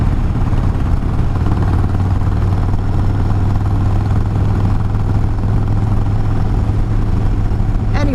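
A 1994 Harley Davidson Sportster 1200 motorcycle engine while riding, a loud, steady low rumble with a continuous throbbing drone and wind noise, held at constant strength throughout.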